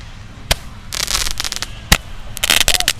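Fireworks set off outdoors in Korea, several sharp loud bangs followed by bursts of rapid crackling, spread irregularly across a few seconds.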